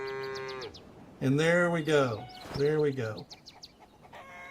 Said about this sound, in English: So you can hear the chickens and the cows going off.